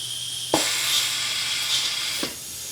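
A continuous airy hiss of compressed air from a Tolomatic pneumatic actuator on an animatronic runs throughout, broken by two short thumps about two seconds apart.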